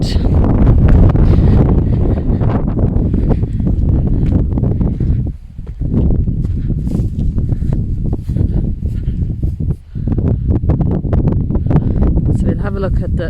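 Strong wind blowing across a cemetery beside a church, roaring and buffeting the microphone almost continuously, loud and close, with only two brief lulls.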